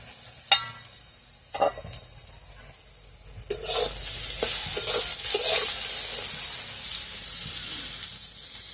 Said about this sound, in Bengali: আমি বেগুনটা ভাজার সময় একটু চাপা দিয়ে দিচ্ছি যাতে বেগুনটা তাড়াতাড়ি সেদ্ধ হয়ে যায়।